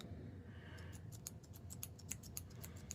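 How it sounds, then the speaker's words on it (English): Crisp clicks from the mechanism of a turned airfoil pen converted to take a Pilot G2 refill, a quick run of sharp, close, quiet clicks in a rapid irregular series, alone with no voices. "Super smooth clicking mechanism."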